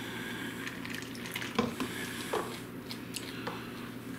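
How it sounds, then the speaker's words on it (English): Water poured from a tap or jug into flour batter for deep-fried battered mushrooms, a steady close trickle with a few brief splashy bursts, no voices. "So I'm just gonna add a little bit of water"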